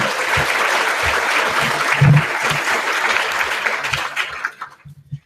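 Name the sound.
audience applause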